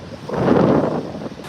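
Breezy southwest wind gusts across the microphone at a Gulf beach in North Naples, Florida, a steady roar that builds and then eases over a second and a half, with no surf clearly separable.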